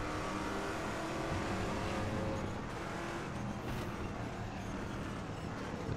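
The big V8 of a Saleen S7R racing at Sepang in RaceRoom drones loud and close, holding a sustained high-revving roar with slight pitch shifts throughout.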